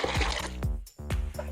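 Water poured to dilute homemade kitchen-waste liquid fertilizer, about one litre mixed at a 1:10 ratio; close, bubbly glugging pours in a few bursts with a brief pause midway.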